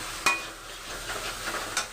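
Spice paste being stir-fried for a potato and pointed gourd curry, with soft sizzling under a spoon scraping the pan and a couple of sharp clinks of utensil against metal.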